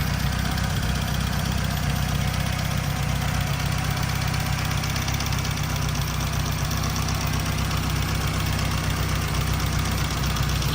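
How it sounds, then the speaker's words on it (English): A 1954 Triumph TR2 long-door sports car idles steadily with the bonnet open, its engine giving a continuous low, even rumble with a faint mechanical tick, close and alone with no voices. "And here we are with this TR2, idling nicely."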